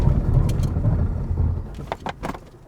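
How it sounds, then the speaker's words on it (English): A VW Golf GTI TCR's engine rumbles low and steady while driving on tarmac, with a few sharp clicks and taps breaking through near the end. "Bit of engine noise, added noise"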